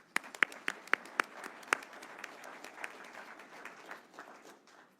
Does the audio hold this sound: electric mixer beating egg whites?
no